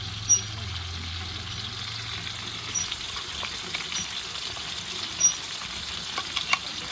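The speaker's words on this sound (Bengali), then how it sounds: "পেঁয়াজ ভাজা হয়ে গেছে, এর মধ্যে আছে আদা আছে, রসুন আছে, জিরে গুঁড়ো আছে" Fried onions with ginger, garlic, cumin powder, coriander and chili powder sizzle steadily in a pan, with occasional light stirring knocks and faint background voices.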